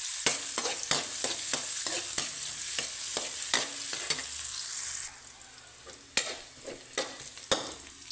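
Corn and vegetables stirred in a sizzling pan for a Filipino ginataang-style dish, with a spoon scraping in quick irregular strokes over a steady frying hiss, the scraping thinning out toward the end, close and fairly quiet.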